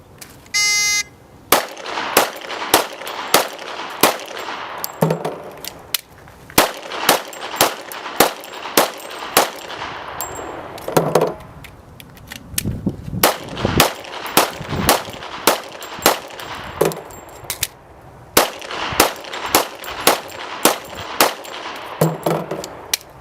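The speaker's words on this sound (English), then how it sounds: "Now she'll demonstrate shooting 30 rounds with 6 rounds" Handgun fired in rapid strings during a sheriff's shooting demonstration, thirty sharp loud shots in bursts of six from five magazines, separated by short pauses for magazine changes, with a buzzer tone at the start.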